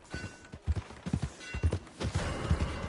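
Horse hooves clip-clopping at a steady walking rhythm in the video game Red Dead Redemption 2, close and clear, alone with no talking.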